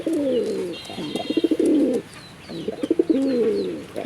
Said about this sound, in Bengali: এই নর প্রচুর ডাকাডাকি করে, প্রচুর, সারাক্ষণই ডাকবে।